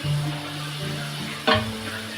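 Radish bhaji with grated coconut being stirred in a pan, a soft steady sizzle with a brief scraping stir near the end.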